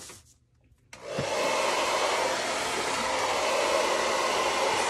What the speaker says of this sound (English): before I turn on the blow dryer and make it all crazy